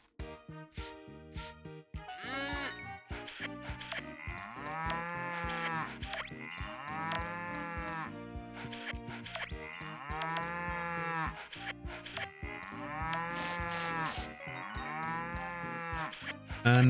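Game cows mooing in the Story of Seasons farming game, a series of drawn-out lowing calls one after another, steady and fairly loud with no talking over them.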